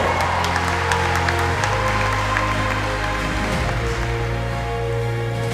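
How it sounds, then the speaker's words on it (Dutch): Sustained audience applause fills the air at a horse driving competition, a dense, even clatter of clapping hands with music playing underneath. "De applaus voor Ietse Hoekstra."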